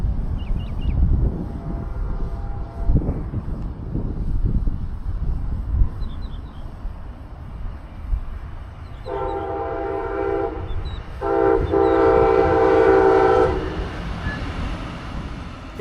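Brightline passenger train slowing for a diverging move onto the Eastern Main Line at CP Melbourne, rumbling past under ambient noise, then two loud, sustained multi-tone horn blasts close by, the second following a short gap.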